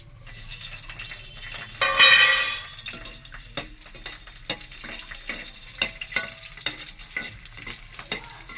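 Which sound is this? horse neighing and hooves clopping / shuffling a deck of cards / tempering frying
tempering frying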